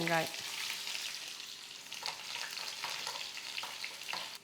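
Steady sizzling and crackling of onion frying in hot oil with mustard seeds and curry leaves for sambar tempering, with a few soft stirring scrapes, close and continuous with no talking.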